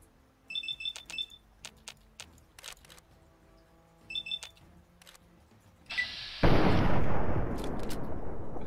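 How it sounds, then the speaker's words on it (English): Gunshots ring out in the video game Fallout 3, a few sharp reports over ticking electronic beeps, followed by a loud sustained burst of rumbling noise. "I'm not hitting any of my shots."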